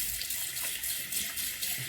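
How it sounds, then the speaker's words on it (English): A tap runs steadily into a sink while someone washes their face, a continuous close hiss of flowing water with no talking. "But first, let's just wash my face."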